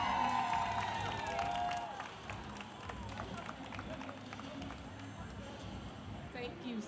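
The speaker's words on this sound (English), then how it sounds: "If I could just have another round of applause for these iconic literary legends." Festival audience at Essence Festival applauding authors on a panel, a loud burst of clapping and cheering that fades into a softer, steady patter with voices mixed in.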